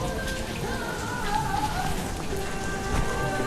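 Evening rain falls steadily in Marmaris, a dense even patter on surfaces holding at a constant level from start to end with no voices over it.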